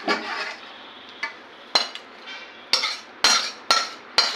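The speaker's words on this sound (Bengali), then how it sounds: "এবার আমি চিকেন কারিটা একটা বড় বাটিতে ঢেলে নিচ্ছি" Chicken curry is poured from a cooking pot into a large bowl, heard as a series of about eight sharp metallic clanks and scrapes, close up and evenly spaced, with no voices.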